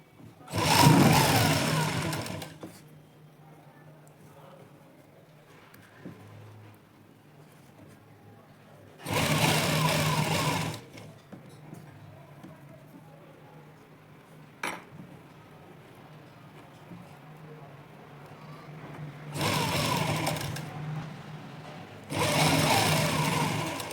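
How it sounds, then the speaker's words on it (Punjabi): A sewing machine stitches lace onto a sleeve in four loud, close bursts of rapid whirring, separated by quiet stretches of faint handling noise. "ਬਿਲਕੁਲ ਇਹਦੇ ਉੱਪਰ ਰੱਖ ਕੇ ਫਿਰ ਆਪਾਂ ਸਿੱਧੀ ਸਲਾਈ ਲਗਾਉਣੀ ਆ"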